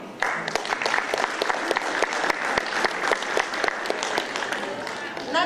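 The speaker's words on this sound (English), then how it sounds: "Let's give them another round of applause" Applause at a school board meeting honoring EL graduates, a short burst of crisp, close clapping from a modest crowd, individual claps audible and fairly even throughout.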